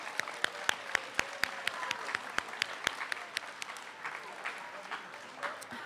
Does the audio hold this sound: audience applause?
yes